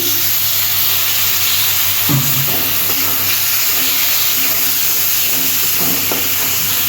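Turmeric and chilli powder cooking in a pan as a little water is added, giving a loud, steady, close hiss and sizzle throughout, with faint stirring clinks.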